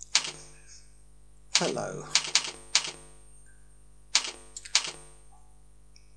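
A computer keyboard clicks while someone writes a new Outlook email: a few sharp, close keystrokes in small clusters separated by pauses, with one brief spoken word.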